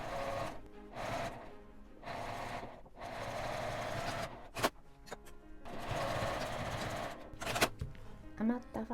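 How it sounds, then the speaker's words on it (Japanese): A sewing machine stitches both ends of fabric for a zippered pocket tissue case, running in several rapid mechanical bursts separated by brief pauses, close and moderately loud, with short clicks between runs. "両端を1センチの縫い代で縫います。"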